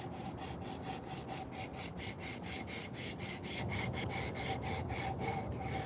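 Abrasive rubbing on wood with a cut piece of sanding belt in quick, even back-and-forth strokes, shaping a wooden spoon, a steady scratchy rhythm that continues without pause.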